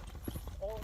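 A large, tall horse's hooves clip-clop briefly beneath people talking close by.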